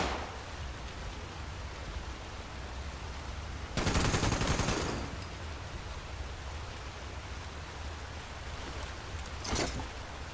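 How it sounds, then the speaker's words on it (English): Gunfire in the Fallout 76 video game: a loud burst of rapid shots about a second long over a steady hissing background, then a fainter short burst near the end, no talk. "Who's shooting at me?"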